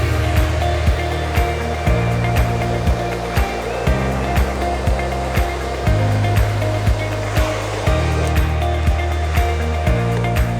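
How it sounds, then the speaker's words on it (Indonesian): A hair dryer blows steadily close by while styling front hair for volume, a loud constant whooshing roar with a low motor hum and periodic soft thumps as it is moved. "ini cara hair dryer biar kita buat volume rambut bagian depan"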